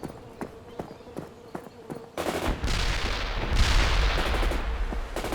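Battle sounds from the video game World in Conflict: sparse sharp gunshots at first, then a loud roaring burst of rocket launches and heavy explosions that keeps rumbling to the end.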